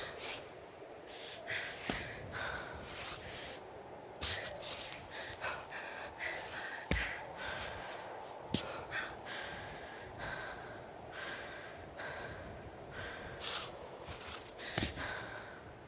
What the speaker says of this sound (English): She was breathing.